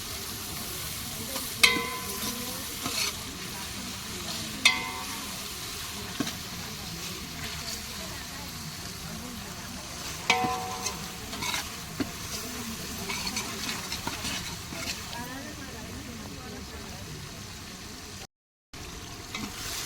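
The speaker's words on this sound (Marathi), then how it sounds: "आता थोडा कांदा शिजत आलेला आहे आता आपण त्यामध्ये टॉमॅटो टाकणार आहोत" Onions and homegrown village tomatoes, some unripe, fry and are stirred in a pan: a continuous soft sizzle broken by occasional sharp clanks of a spoon against the metal, with a brief dropout near the end.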